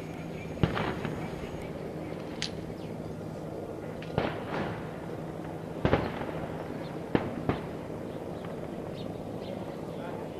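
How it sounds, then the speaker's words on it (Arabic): Phosphorus bombs burst over the Jobar district of Homs, several sharp distant explosions and cracks spaced irregularly over a steady outdoor background. "قنابل فسفورية."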